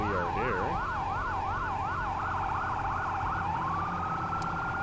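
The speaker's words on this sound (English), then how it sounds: "I really wish we had a different sound and siren" Wailing emergency vehicle siren from a firefighting simulator video game, a loud continuous up-and-down sweep that cycles rapidly, then settles into a steady rising tone near the end, with engine rumble beneath and no talking.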